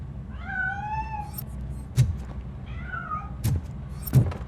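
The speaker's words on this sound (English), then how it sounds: "That cat must be hiding inside." Two drawn-out meows from a cat in the video game RoboCop: Rogue City, with rising and falling pitch, each followed by soft thumps and clatter, fairly close with a low steady background hum.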